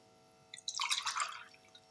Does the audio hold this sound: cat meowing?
no